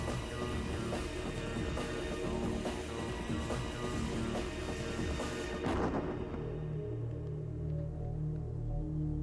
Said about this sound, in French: L'explosion de cette mine du Moyen-Âge est assez violente pour blesser un homme, voire le tuer.